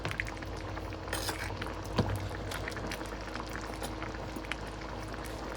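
Brown stew meatballs simmering in a pot: a soft, steady bubbling and crackling, faint and continuous, with a single louder pop partway through and no voices.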